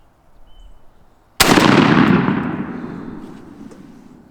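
A single loud shotgun blast goes off nearby during patterning for turkey hunting with a Stoeger and its factory choke, its sharp crack trailing into a long fading echo over about three seconds.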